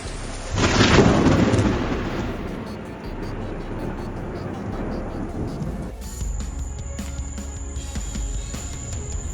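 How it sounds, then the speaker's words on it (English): A lightning strike in a storm in Lawrence, Kansas, giving a loud sudden crack that rolls into sustained rumbling thunder, then fades into a steady wash of rain with faint background voices. "A lightning strike in Lawrence, Kansas on September 22nd."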